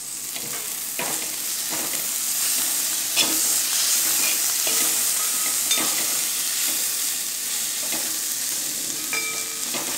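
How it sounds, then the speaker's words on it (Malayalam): Chopped tomato is stirred into frying onions for a Kerala-style chicken roast, a spoon scraping the pan in steady, spaced strokes over a continuous hissing sizzle, close and without voices. "ഇനി നമുക്ക് തക്കാളി അരിഞ്ഞത് ഇതിലേക്ക് ചേർത്ത് കൊടുക്കാം"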